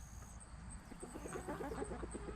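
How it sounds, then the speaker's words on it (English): Chickens in a homestead garden give soft, repeated clucks and low murmuring calls, fairly faint and close, over steady background noise, with a thin high tone running throughout. "And the chickens have been eating it."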